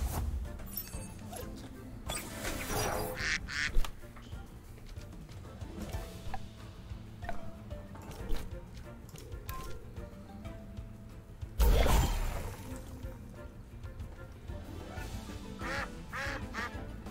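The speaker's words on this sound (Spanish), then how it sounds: "Un pato." Video game duck in Temtem quacking in several short bursts across a busy game soundscape, with one loud crash-like burst near the end.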